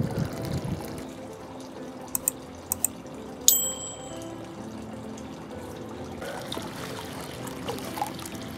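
Water circulates steadily through a newly set up axolotl aquarium, giving a constant soft trickling and bubbling wash, with a few sharp clinks near the start.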